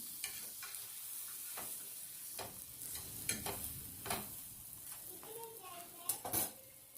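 A Kutchi dabeli roasting on a pan while it is flipped to brown the second side, with a soft sizzle and scattered scraping and tapping of a spatula, close but quiet.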